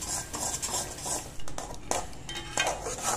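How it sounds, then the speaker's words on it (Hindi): Chicken stock is stirred into a batter mixture, making continuous close scraping and swishing of a utensil against the vessel with occasional clinks. "अब वो हम ऐड करेंगे और उसे अच्छी तरह हिलाते रहेंगे कि वो एक अच्छा सा घोल बन जाए।"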